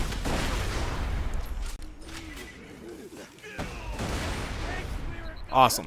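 Rocket launcher fire in the video game Borderlands 2, with loud bursts of explosive blasts and crackling impacts in rapid succession, a short lull, then another heavy volley, with a brief spoken word near the end.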